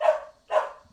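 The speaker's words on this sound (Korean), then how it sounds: "우리 멍멍이가 녹음을 하고 있는데 짖고 있군요." Dog barking twice in quick succession, two short sharp barks close by, alone with no talk.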